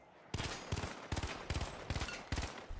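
Gunfire in the multiplayer shooter The Finals: six sharp, evenly spaced bursts of rapid automatic fire, close and loud, each a short volley followed by a brief pause, with no voices.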